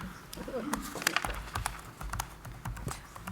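Rapid clicking of a computer keyboard during a police facilities advisory committee meeting: uneven bursts of close keystrokes, with faint room voices in the background.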